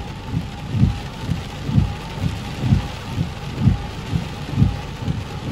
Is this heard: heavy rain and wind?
yes